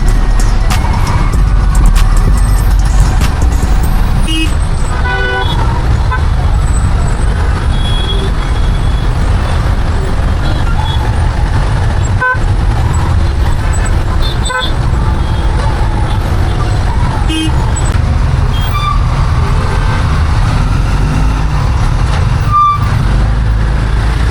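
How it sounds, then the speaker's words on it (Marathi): Heavy road traffic on Ghodbunder Road makes a loud continuous rumble of cars, trucks and buses, with scattered horn toots, beeps and air-brake hisses, close by and without talk. "ट्रॅफिक बघा, घोडबंदर रोडला आहे."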